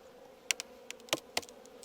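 Honey bees fly around an open beehive in an orchard apiary, with a faint steady hum and scattered brief sharp ticks close by. No one speaks.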